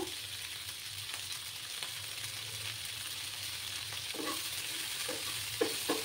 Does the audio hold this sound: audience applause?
no